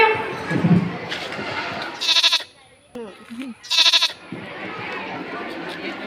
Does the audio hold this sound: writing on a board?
no